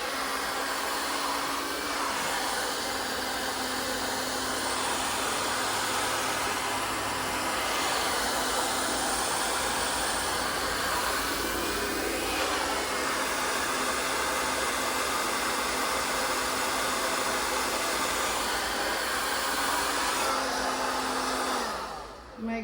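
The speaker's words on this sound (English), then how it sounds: "you wanna move the blow dryer around because it is hot" A handheld blow dryer set on low runs continuously with a steady, close whooshing hiss, its airflow shifting slightly as it moves around, with no voices over it.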